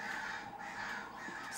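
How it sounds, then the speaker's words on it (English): Crows caw repeatedly in the game Hellcade: Lost Souls, harsh calls recurring in a slow rhythm over a low ambient drone, moderately faint. "Crows are scary."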